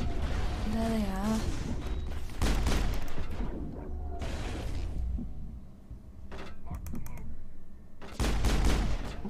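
Geth gunfire in the video game Mass Effect crackles in short bursts and volleys between stretches of game sound, with someone talking over parts of the action.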